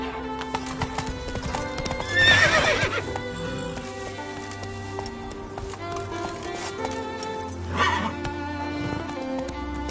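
Geralt's horse Roach in The Witcher 3 gallops with rapid rhythmic hoofbeats, whinnies loudly twice over the running and carries on under game music.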